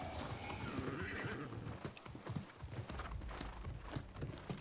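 Horse in the video game New World galloping with rhythmic hoof clip-clops and a neigh, a wolf chasing behind, under a busy game soundscape with faint talk.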